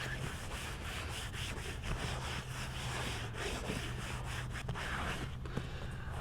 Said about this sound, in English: I'm just going to go ahead and use my hand to rub it in a little bit to even it out.